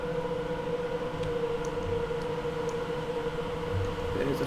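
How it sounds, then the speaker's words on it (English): A Class 350 electric train passes through a station in Train Simulator 2020, a sustained hum with steady tonal whine and rolling rumble, constant and fairly loud throughout. "There's a 350 arriving, but it's going to be passing by"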